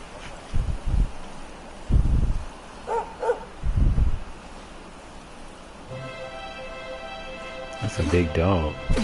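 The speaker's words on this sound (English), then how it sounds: "big dog." A big dog barks in the video game Dragon Quest XI, several low, loud woofs spaced across a few seconds over wind and ambient noise, followed by a brighter musical chime.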